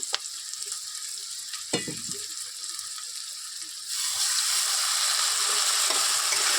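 Onion and spice masala with a little sugar and water frying in a pan, a close sizzle with scraping stirs and a sharp clink, then the hiss swells abruptly into a louder, steady, bright frying roar.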